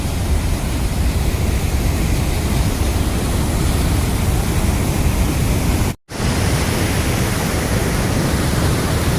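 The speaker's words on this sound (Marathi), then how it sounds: "मोठा धबधबा इथे तयार झालेला आहे." Large waterfall formed on the flooding Mhalungi river: a loud, steady broadband roar of heavy, fast-flowing water, close and continuous throughout, with a brief dropout partway.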